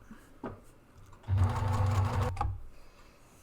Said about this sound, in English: then I just stitch down the open edge first and then the opposite edge to balance that out